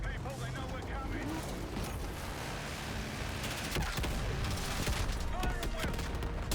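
Continuous battle gunfire in the Call of Duty Black Ops 6 campaign, dense overlapping shots and mechanical clatter mixed with game sound and occasional voices.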